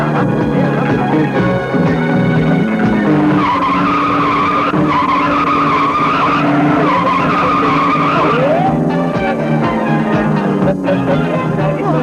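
A car skids through stunt driving in a loud, sustained screech of tires over a roaring engine, the squeal wavering in pitch for several seconds before changing tone near the end.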